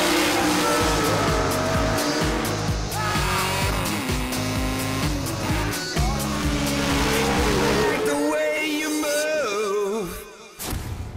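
A race car roars at speed while towing metal coffins on a UK game show, its engine noise mixed with loud stepped music throughout before easing near the end.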